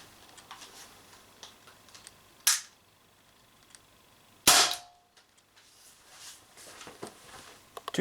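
Two sharp, close shots from an Umarex TP50 gas air pistol firing steel balls, each a crisp crack followed by a short fading tail, spaced about two seconds apart over quiet background noise.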